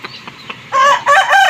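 A Thai fighting rooster crows loud and close, two drawn-out calls following a few soft clucks.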